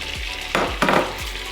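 Flour is stirred into melted butter in a hot pot: a steady sizzle with a few scraping strokes of a spoon against the pot bottom, close and clear with no talking.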